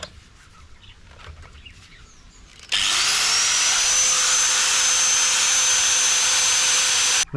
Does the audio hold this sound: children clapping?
no